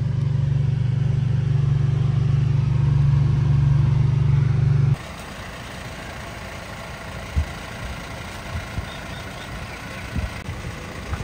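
A Suzuki Bolan van fitted with a V8 engine idles at a civic centre, first as a loud, steady low hum, then cutting to a quieter rumble with occasional small knocks.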